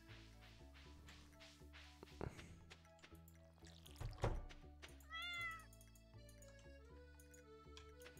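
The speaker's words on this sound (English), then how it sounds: "I want to go say hi to my cat" A cat meows inside the Stardew Valley farming game, a rising cry heard once over steady game music with soft clicks and thunks.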